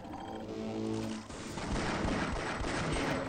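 Rapid gunfire in the video game Half-Life crackles through a noisy mix. A burst of shots follows a steady tonal hum, then a dense clatter of firing carries on at moderate level.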